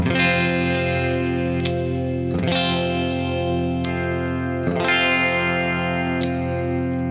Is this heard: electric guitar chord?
yes